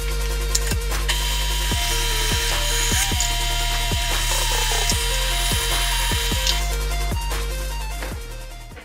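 A power drill whines steadily at high speed, with repeated bursts of rising and falling pitch as the bit bores holes in a steel transmission crossmember.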